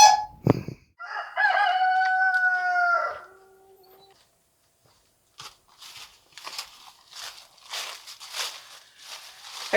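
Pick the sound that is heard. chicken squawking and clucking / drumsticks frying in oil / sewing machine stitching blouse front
chicken squawking and clucking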